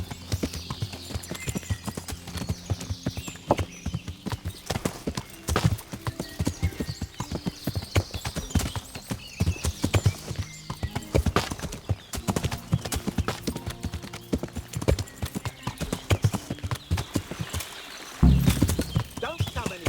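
A horse in the medieval video game Kingdom Come: Deliverance trots with steady clip-clop hoofbeats and neighs now and then. Voices talk over the hooves throughout.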